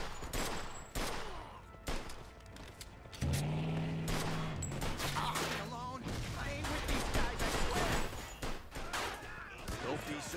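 Gunfire rings out in the Mafia II video game, repeated bursts and shots crackling throughout amid engine noise, with voices shouting over the shooting.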